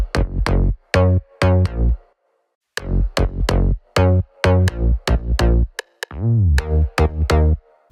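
Punchy synth bass notes with a rim shot layered on each hit give sharp percussive attacks. They play in a steady rhythmic pattern with short gaps, loud and close, with a brief pause near the start.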